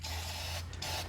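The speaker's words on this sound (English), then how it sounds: "with this oil, you just want to spray." Aerosol oil sprayed onto a motorcycle chain during cleaning, a steady close hiss lasting about a second with a brief break near the end, loud and alone without talk.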